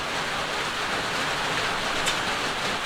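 Steady rain falls outdoors as a dense, even hiss of drops on surfaces, continuous and moderately loud, with no voices.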